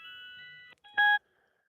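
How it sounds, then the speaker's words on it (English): A phone's incoming-call alert on a live stream: a steady electronic tone with several stacked pitches plays for about three quarters of a second, breaks off briefly, then a louder, brighter beep sounds for a moment before silence. "We got a phone call coming in here."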